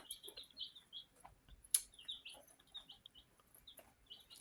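Black Copper Marans chicks chirp softly and repeatedly in a brooder, high peeping calls scattered across the moment, with a faint background hiss and one sharper peep.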